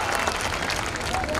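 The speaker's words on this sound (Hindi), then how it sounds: "पूरे परिवार के लिए जोरदार तालियां हो जाती है" Brief burst of crowd clapping at a school annual function, a dense, steady patter of many hands heard at a moderate distance throughout.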